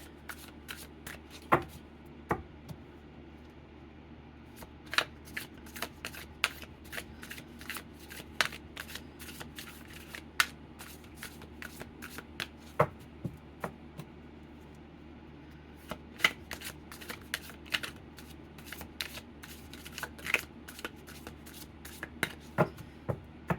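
A deck of tarot cards being shuffled up close, with irregular bursts of crisp riffling and flicking snaps over a quiet room hum, continuing steadily with no talk.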